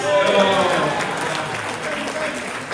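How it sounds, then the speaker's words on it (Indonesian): Audience applause at a UGM alumni reunion gathering, a steady wash of many hands clapping that holds loudly through the moment and eases slightly toward the end. "Kita beri tepuk tangan khusus untuk Konglis."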